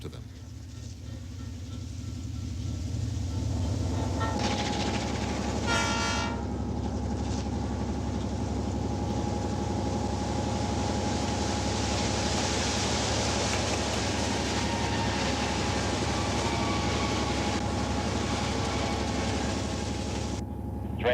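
A train rolls past on the rails during a film stunt, with a steady, heavy rumble and rushing noise that swells in and holds loud for a long stretch.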